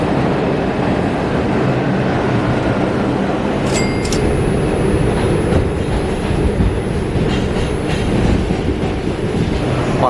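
A New York subway shuttle train rumbles steadily and loudly right beside the platform, with a brief metallic wheel squeal around the four-second mark over the constant rolling noise.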